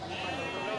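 A single wavering bleat from a goat, fairly faint, over a busy background murmur at a goat market.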